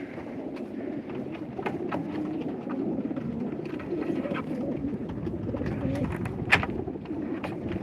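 Many racing pigeons, about 300, coo and flutter together in a steady, dense murmur, with a few sharper calls and wing noises popping out now and then.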